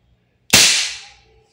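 A single sharp shot from an Umarex HK416D airsoft gas blowback rifle, a loud crack with a hissing decay that fades over about a second, close and alone.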